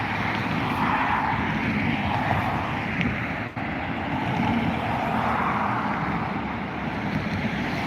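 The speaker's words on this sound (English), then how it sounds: "right now we should have the Turkish cargo probably at the end of runway 10 right" A Turkish Cargo Airbus A330 jet at Dublin Airport, near the end of runway 10, gives a broad, steady engine roar that stays loud and constant for the whole stretch, with a brief dip midway and no voices.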